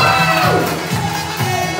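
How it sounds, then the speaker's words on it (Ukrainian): Wedding guests cheer and applaud the bridesmaid, a loud, continuous crowd roar with whoops and shouts that swells at the start and stays steady to the end. "Ваши аплодисменты свидетельницы"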